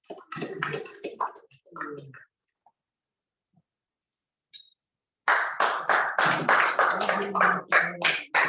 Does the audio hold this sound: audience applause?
yes